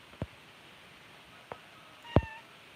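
A house cat named Boo gives three short meows spaced apart, the last one louder and more drawn out, close by against a quiet background.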